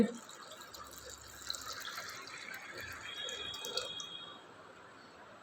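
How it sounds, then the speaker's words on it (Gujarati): Water poured into a pot of soaked lentils for dahi kachori, a faint steady trickling splash under a quiet room tone with a voice speaking nearby. "એટલું જ પાણી આમાં દાળ ડૂબે એટલું જ પાણી નાખવાનું છે"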